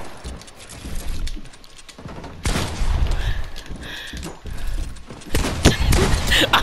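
Gunfire in a Fortnite Creative 1v1 video game match, with dense bursts of rapid shots and booming impacts that grow louder toward the end over a busy stream of game noise.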